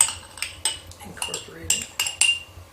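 Back of a metal spoon pressing a maple mixture in a bowl, producing a series of sharp clinks and scrapes against the dish at an irregular pace, close and fairly loud with no talking.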